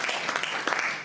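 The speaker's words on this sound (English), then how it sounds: "Round of applause for Rex" An audience applauds Rex the dog during a stage competition, a short burst of mixed clapping at moderate volume.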